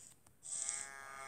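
A single cow moo from Multicraft, short and fairly quiet, rising suddenly after a brief near-silence.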